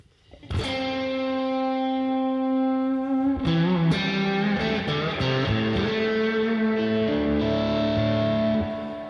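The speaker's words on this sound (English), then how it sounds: "I cranked up the delay, more feedback." Electric guitar pushed through cranked delay with heavy feedback, sustained distorted notes ringing and smearing into repeating echoes, loud and continuous for several seconds before fading.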